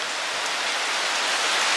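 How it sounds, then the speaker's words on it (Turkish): Heavy rain pours steadily outside, a dense, even hiss of drops on surfaces that stays constant throughout, with no voices. "Çok fena bir yağmur indirdi."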